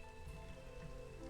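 Steady rain in the city-builder game Against the Storm, a constant dense patter that holds at an even level throughout with no one talking over it.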